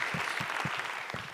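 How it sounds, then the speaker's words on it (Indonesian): An audience at a stand-up comedy show claps and cheers, with loud, close applause that stays steady throughout. "tepuk tangan dong buat Mukmin"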